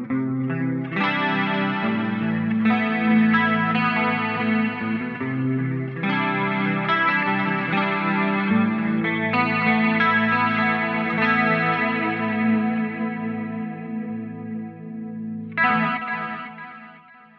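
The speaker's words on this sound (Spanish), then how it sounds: "Y con chorus más el delay." Electric guitar chords run through an Eventide H90 pedal with chorus and delay, shimmering and wide with repeating trails, strummed in several phrases over about seventeen seconds with no talking.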